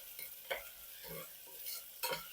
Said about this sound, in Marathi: एक दोन मिनटं आपण टोमॅटो छान परतू देऊया